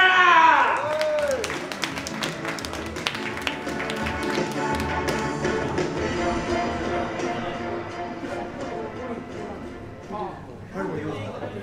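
Audience at an idol festival in Sapporo breaking into a crisp, sustained clapping that carries on over music and an announcer's voice, thinning out near the end.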